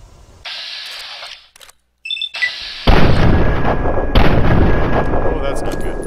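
Gunfire in the video game Fallout 3 during VATS targeting, with a loud booming shot and sustained rumble after synthetic interface tones and beeps, a voice talking partly alongside.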